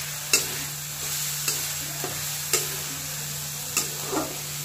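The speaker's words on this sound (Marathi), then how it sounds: "कांदा आणि खोबरं मंद आचेवर परतून घ्यायचं।" Onion and grated coconut sauté over a low flame for shev bhaji with a soft, even sizzle, punctuated every second or so by sharp clicks of a spoon against the pan, over a steady low hum.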